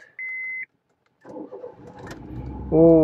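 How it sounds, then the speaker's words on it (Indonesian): A brief electronic beep, a pause, then the engine of a 2012 Honda City E cranks with a whirring starter and catches into a louder, steady idle close by. "Nyalain dulu mobilnya."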